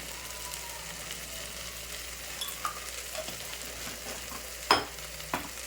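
Masala spices, including goda masala, red chili powder and salt, stirred in a pan for masale bhaat, giving a soft steady sizzle with faint scraping and a couple of sharper clinks near the end.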